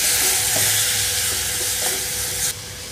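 Tomato pieces for tomato pulusu drop into a hot frying pan, and a loud, dense sizzle with faint stirring runs continuously before it suddenly drops in level near the end.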